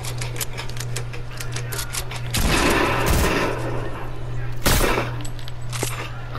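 Sniper and automatic gunfire in a first-person shooter video game: loud rapid bursts of shots over a steady low hum, with a couple of heavy blasts standing out.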